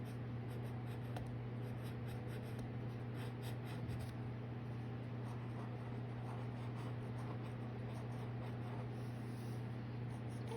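A rainbow pencil scratches and rubs steadily across paper while coloring, a soft continuous scribbling over a low steady hum.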